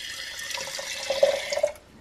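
Water poured from a tap or cup into a jar holding baking powder, a soft trickling pour with brief bubbly splashes, fairly quiet and ending abruptly.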